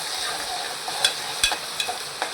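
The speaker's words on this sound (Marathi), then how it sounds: "काजू दोन मिनटं असे तेलात चांगले फ्राय करून घ्यायचे" Cashews fry in hot oil over softened onion, a soft steady sizzle punctuated by a few light stirring taps and scrapes, close by with no talking.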